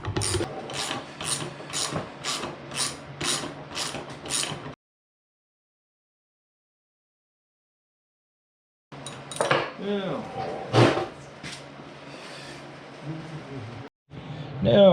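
A torque wrench ratchets on Arctic Cat clutch bolts with about eight even, crisp clicks. A few seconds of silence follow, then someone talks over metallic clanks and tool handling.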